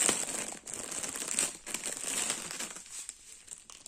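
Crinkling of a plastic Ribambelle bag being handled close up during diamond painting preparation, with continuous rustling and sharp crackles over several seconds, no talking.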